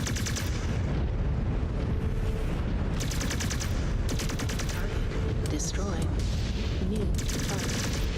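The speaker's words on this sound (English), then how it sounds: "I have artillery strikes" In the video game Mechwarrior 5 Clans, an artillery strike lands as dense, continuous booming mixed with rapid weapon fire. It stays loud and relentless throughout, with brief electronic tones flickering through the barrage.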